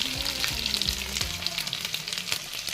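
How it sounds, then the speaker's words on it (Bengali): Large-cut eggplant pieces fry in a pan, hissing in a steady, crackling sizzle with a few soft clicks from stirring, close and continuous. "বেগুনটাকেও হালকা করে ভেজে নেব, বড় বড় করে কেটেছি বেগুনটা।"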